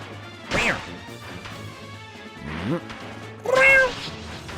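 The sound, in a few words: cat unit attacking in the video game Fire Emblem: Path of Radiance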